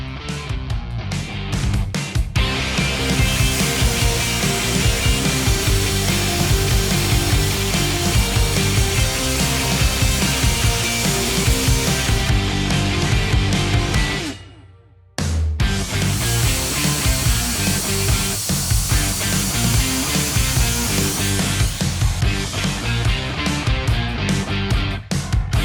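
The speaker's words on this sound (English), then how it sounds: "we blasted half of the rim just to remove the chrome coating at first" A high-pressure blaster strips the chrome coating off a wheel rim down to bare metal, a loud, continuous harsh hiss and roar that cuts out briefly midway, then resumes.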